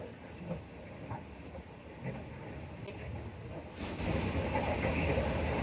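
The Karakorum Express passing through Patoki station alongside a standing container special, a steady rumble and rattle of a moving train heard from on board, growing louder and more hissing midway.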